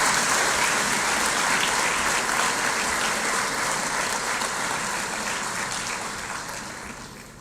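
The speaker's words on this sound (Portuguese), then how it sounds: "Gostava de resgatar as vossas palmas para os novos conselheiros." An audience at the Angolan Bar Association's swearing-in of new council members breaks into loud, continuous applause that holds steady and then gradually fades toward the end.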